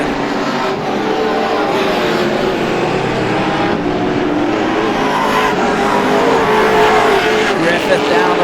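Race cars roaring around the oval at Star Speedway during the GSPSS 100, a loud continuous engine drone with rising and falling passes. A commentator talks over it.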